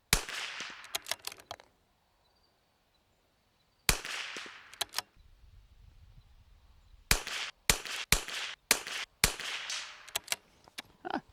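Rifle shots fired at a target for group practice, sharp loud reports in separate bursts with pauses of quiet between them.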